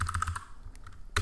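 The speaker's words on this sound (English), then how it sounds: "you can select the cell and start typing" Quick, light keystrokes on a computer keyboard while entering data into an Excel spreadsheet: a brief run of clicks, a quieter pause with scattered taps, then a final sharp burst, all close and without talk.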